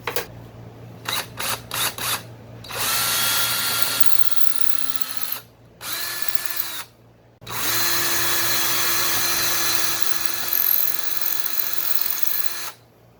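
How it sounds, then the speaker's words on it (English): A power drill with a 1/8 inch bit whirs in several short bursts, then longer steady runs, close by, drilling pilot holes for house number installation with pauses between each. "we're going to use our 1/8 inch drill bit to make our pilot holes"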